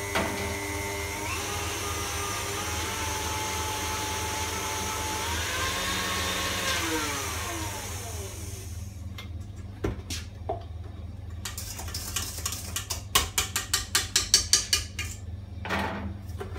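A kitchen mixer whipping cream into chantilly with sugar in a restaurant kitchen, a steady whirring motor that slows and winds down, followed by a series of clattering clinks and taps.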